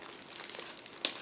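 A Ziploc plastic bag holding clear plastic model-kit parts crinkles steadily as it is handled up close, with a sharper crackle near the end.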